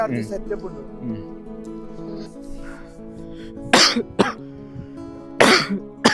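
Two sharp coughing bursts from a person chilled by the cold cut through a steady harmonic drone, with a softer cough-like sound earlier; the coughs are close and fairly loud.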